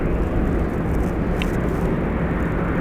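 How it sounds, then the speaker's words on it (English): A Southwest Airlines jet departs Las Vegas Harry Reid International Airport, its engines producing a loud, steady, broadband roar that holds constant throughout. "Currently departing is Southwest Airlines 2810 to Lahui"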